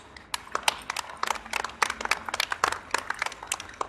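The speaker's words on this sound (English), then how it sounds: "Give a big applause." A small audience at a contestant event in a Ghanaian drama claps, with scattered, uneven handclaps at close range that are irregular and sparse rather than a full roar, and no talking over them.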